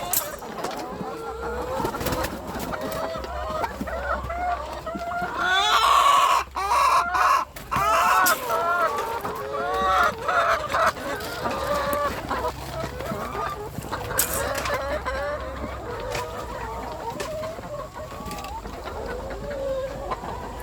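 Laying hens in a coop cluck steadily in a busy, overlapping chorus, with a rooster-like crow rising briefly near the middle; the flock sounds close and lively throughout.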